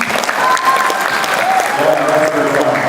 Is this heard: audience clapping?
yes